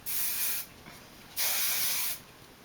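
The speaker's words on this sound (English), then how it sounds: "I usually use shine spray, just a little bit." Two short bursts of shine spray (Kenra Platinum Silkening Mist) hissing from a spray bottle close by, each lasting under a second, separated by a brief quiet pause.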